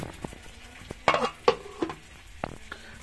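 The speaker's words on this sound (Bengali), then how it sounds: "এখানে রান্না বলতে বুট ভাজা আর কি" Chickpeas being dry-fried and stirred in a pan make sparse scraping strokes and a few sharp clinks of a utensil against metal over a faint, low sizzle, fairly quiet and close.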